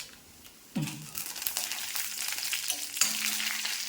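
Dried red chillies hit hot oil in a pan with a sudden sizzle, then a steady crackling fry with light stirring scrapes, close and fairly quiet, no talking.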